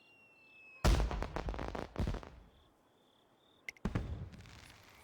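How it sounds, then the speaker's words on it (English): Fireworks going off outdoors at an evening event, a burst of rapid crackling bangs followed by a pause and a second shorter volley, with faint insect chirps in the background. "The fireworks begin at 7 o'clock"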